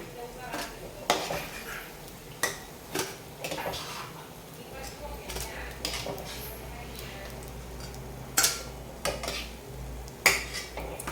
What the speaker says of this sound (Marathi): ते वडे तळून तर मी ह्या चाळणीमध्ये अवकाशे काढून घेते